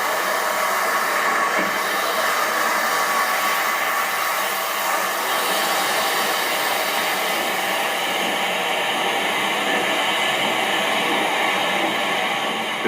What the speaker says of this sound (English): the loco is settling into its stride again on a part of the East Coast line known as the Racing Stretch